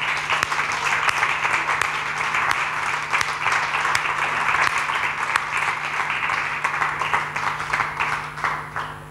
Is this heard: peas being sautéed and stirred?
no